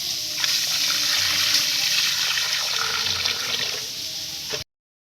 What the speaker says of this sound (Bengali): আমরা এখনকার ঝকঝক করে ধুয়ে নিব